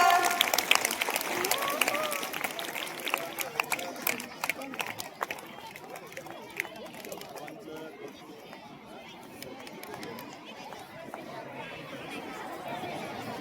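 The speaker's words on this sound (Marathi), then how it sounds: "सर्वांनी टाळ्या वाजवा," An audience claps at a Guru Purnima celebration in a secondary school. A burst of applause and crowd chatter is loudest at first, then thins into murmuring and scattered noise, with voices talking throughout.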